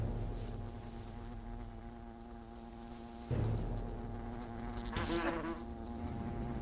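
A giant wasp in the video game Fable Anniversary drones with a steady, insect-like buzz that swells louder partway through, joined by a sharp burst of game effects.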